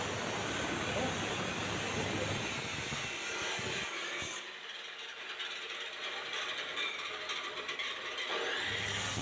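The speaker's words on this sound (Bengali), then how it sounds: "তো মেশিনটা দিয়ে কাটিং করবে, যেমন লাগবে সাইজ তেমনটাই কাটিং করে নেবে।" A cutting machine grinds through a pipe with a loud, harsh continuous whine and rattle that eases partway through, then carries on at a lower level, with background voices.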